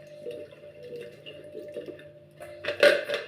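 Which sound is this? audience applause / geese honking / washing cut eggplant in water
washing cut eggplant in water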